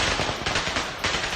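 Soldiers in Kyiv fire at a hovering kamikaze drone in rapid automatic bursts, with sharp cracks following one another quickly and loudly against a harsh noise backdrop.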